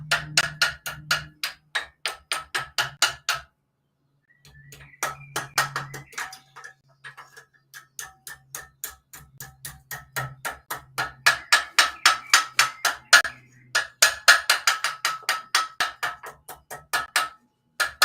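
Small hammer forging a Viking fibula at a blacksmith forge, striking in rapid rhythmic bursts of close, ringing metallic taps, pausing briefly before resuming in steady runs.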